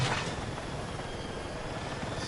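Helicopter in the video game Battlefield 6, a steady dense rotor and engine roar that holds evenly throughout at moderate loudness, with no talk over it.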